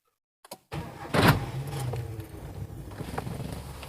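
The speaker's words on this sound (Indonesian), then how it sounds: "Karena dipakai peredam jadi suaranya tidak terlalu berisik si Nissan Terrano ini." A 2001 Nissan Terrano Grand Road 2.4 with manual transmission and a muffler starts after a few small clicks. Its engine catches with a brief rev, then settles into a steady, close, moderately loud idle.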